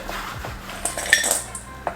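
Small hard pieces of chopped chocolate drop and clatter into a bowl, a quick run of light clinks and taps, close and fairly quiet.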